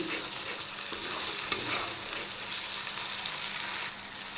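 Spice paste with onion paste sizzles and is stirred in a hot pan while cooking a katla fish curry, a steady soft frying hiss with scraping stirs and no talking.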